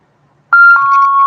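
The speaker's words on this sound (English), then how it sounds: "Sorry about that alarm." A sharp electronic alarm starts suddenly after a quiet moment, holding a steady, loud, piercing tone with a brief restart partway through and no talking over it.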